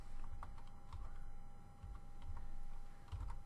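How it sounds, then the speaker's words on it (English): Faint keystrokes on a computer keyboard as a tag is typed into a clip art library search, scattered soft clicks over a low background hum. "And then I could start typing in the tag"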